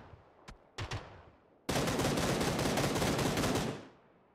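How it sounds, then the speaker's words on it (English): Gunfire in the battle royale video game PUBG: a couple of isolated shots, then a dense sustained burst of rapid automatic fire lasting about two seconds before cutting off. "Warrior Muffin getting shot at by 2 individuals right there."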